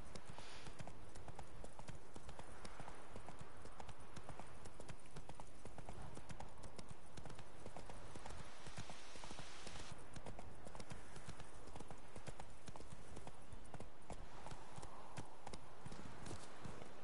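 Roach, the horse in The Witcher 3, gallops in a fast steady clip-clop of hooves that stays close and loud through the whole stretch, with faint game sound beneath.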